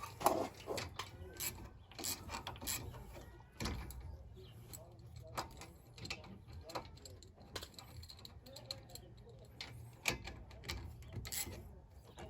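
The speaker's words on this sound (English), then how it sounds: "Grab the socket. Again, it's a 14mm. Tighten it up." A socket ratchet with a 14mm socket tightens small brake bolts on a Honda Element, giving faint rapid clicking strokes with some rubbing and metal handling in a quiet garage.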